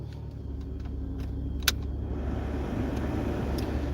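A car's ignition is turned with a key and the engine starts, a brief sharp click followed by a steady low engine rumble that settles into a continuous idle.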